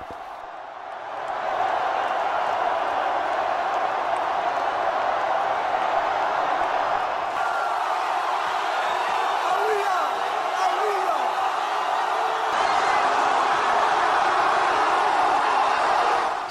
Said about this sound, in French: qui a ravi les centaines de milliers de Français venus applaudir leur héros